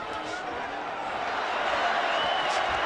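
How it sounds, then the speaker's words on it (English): A boxing arena crowd roars steadily for Canelo Alvarez during his fight against Alfonso Gomez, a dense, sustained wash of cheering heard from within the venue. "Crowd trying to lift Canelo back in forefront of the fight"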